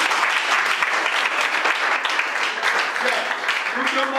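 Audience applause at a thesis defense, a steady dense clapping that fills the room continuously and fairly loudly, with a few voices faintly audible underneath.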